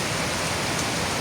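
Rain falls steadily as a dense, even hiss of drops on surfaces, continuous and fairly loud for the whole short moment, with no voices.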